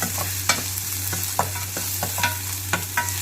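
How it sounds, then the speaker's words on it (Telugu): Garlic paste fries with colocasia pieces in hot oil, a continuous sizzle broken by several distinct spatula scrapes and taps at irregular intervals over a low steady hum, no voices. "వెల్లిపాయ ముద్ద తీసేసుకొని వేసుకొని ఇలా వేయించుకోవాలి"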